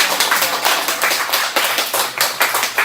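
Audience at a church young adults' summer retreat clapping together, a steady patter of many hands that swells and dips in uneven waves, close and fairly loud, with no talking over it.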